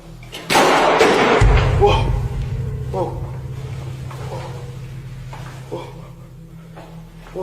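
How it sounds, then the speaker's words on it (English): A door suddenly slams shut with a heavy ring, followed by a low lingering rumble, while a voice talks over it. "The door behind him slams shut without warning."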